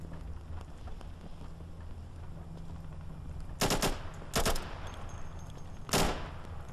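Gunfire from the video game Insurgency: three short, loud bursts of automatic fire ring out over a constant low background rumble, spaced a second or two apart.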